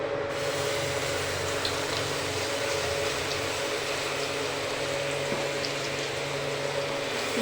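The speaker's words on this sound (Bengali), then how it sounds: "আমি এই একটু কালো জিরে ফোড়ন দিচ্ছি এটাতে" Black cumin seeds tempering in hot oil in a home kitchen: a continuous dense sizzle and crackle with a faint steady hum underneath, constant in level from start to finish.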